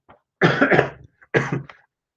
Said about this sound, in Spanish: Lamentablemente estoy muy malo de la garganta y nada más los interrumpo con mi tos